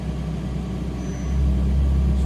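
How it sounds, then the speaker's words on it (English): A Ferrari 458 Italia engine at low revs while the car reverses, giving a steady close rumble that swells slightly partway through, with no talking. "We're in reverse now, so you can just give it a little gas."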